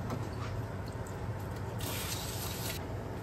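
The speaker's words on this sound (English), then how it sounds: "so we'll spray some brake clean on this towel." A quiet hiss of brake cleaner sprayed from an aerosol can onto a towel, steady with a few brief stronger bursts, close by and without any talking.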